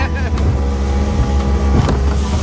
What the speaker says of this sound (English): Right now we're just motoring around out here trying to find a fishing spot.